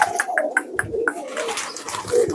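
A Javanese pigeon coos close by in a series of soft, throaty notes that start in a quick rhythmic run and then blur into a longer rolling coo.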